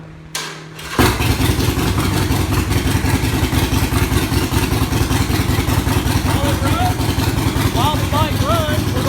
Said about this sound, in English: This particular Harley's a little loud.